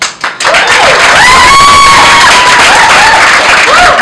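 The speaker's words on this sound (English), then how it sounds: "Receive your applause." An audience at a women's festival event applauds and cheers loudly after a poetry performance, a dense wash of clapping with whoops and tonal sounds rising over it.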